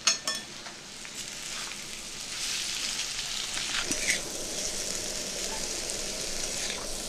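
Dry-roasted spice mix with a spoon of sugar frying in a pan for singara filling, a steady close sizzle that swells after a few initial knocks, with occasional stirring scrapes.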